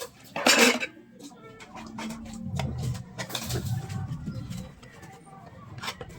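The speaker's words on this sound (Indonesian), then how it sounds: "aku lagi mager nyuci piring" Morning dishes are washed by hand at a home sink: a sharp clatter of plates and cutlery up front, then running water and scrubbing, with birds cooing faintly in the background.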